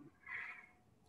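Kitten meowing during an online meeting at home, a single short cry of about a third of a second, faint and a little distant, with no talk over it.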